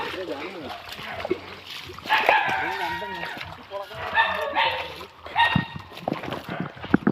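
Dogs bark repeatedly in Kuttanad amid floodwater, with splashing around them and people talking throughout, the barks coming in bursts at moderate distance.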